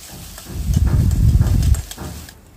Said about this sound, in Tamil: ஒரு 2 பெரிய வெங்காயம் சின்ன சின்னதாக கட் பண்ணி போட்டு கருவேப்பிலை போட்டு வதக்கிட்டுருக்கிறேன்